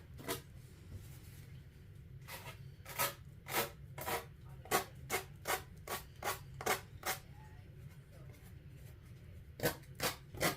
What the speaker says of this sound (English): So then you want to sand it downwards.